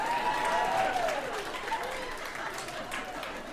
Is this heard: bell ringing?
no